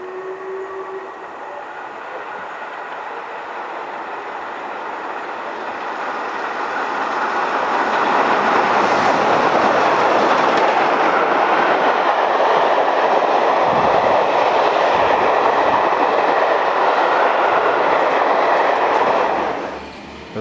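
A train rumbles through a station at close range, its roar swelling and holding steady for several seconds with rhythmic wheel clatter before cutting off.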